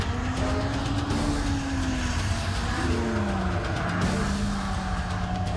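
An LF1 sports car on a soaked, rain-drenched track gives a steady loud engine drone whose pitch rises and falls through the gears. It sits over constant broadband spray and road roar and is heard close and continuous.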